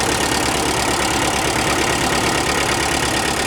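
A tractor engine runs with its PTO engaged at 540, driving an embankment mower in a workshop. It gives a loud, steady, even drone that holds without a break and has no talk over it.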